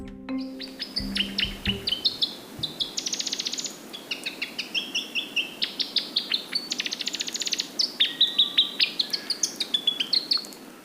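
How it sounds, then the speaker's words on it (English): Male South Island robin singing in New Zealand forest, a steady run of clear, high, sweet phrases repeated in quick bursts, close and loud against a soft leafy background hiss. "The song of the male robin is an iconic sound of the New Zealand forest."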